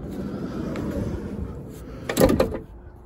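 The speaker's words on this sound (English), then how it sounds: "And as we open up the van door on this model" A campervan side door is pulled open with a short mechanical clunk and rattle over faint background noise, fairly close.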